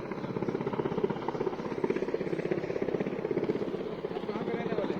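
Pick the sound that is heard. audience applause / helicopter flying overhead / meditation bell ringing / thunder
helicopter flying overhead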